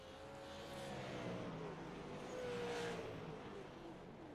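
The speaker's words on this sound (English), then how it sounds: "And he is revving up that engine." A race car engine in an oval racing video game revs up during a pit stop, a steady mechanical drone with a rising and falling pitch that swells in the middle, with no talk.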